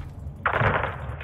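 A short burst of gunfire in the video game Call of Duty: Modern Warfare 2, a sudden bright rattling blast lasting about half a second over a low rumbling background.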